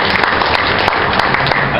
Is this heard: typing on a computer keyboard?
no